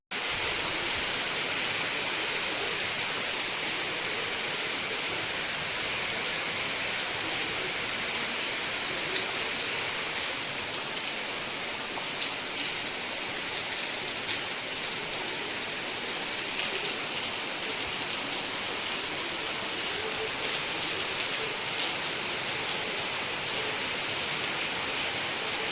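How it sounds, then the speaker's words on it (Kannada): Heavy early-morning rain falls outside in a dense, unbroken roar of drops on surfaces, steady and fairly loud throughout with no talking. "ಹೊರಗಡೆ ಜೋರು ಅಂದರೆ ಜೋರು ಮಳೆ ಬರ್ತಾ ಉಂಟು."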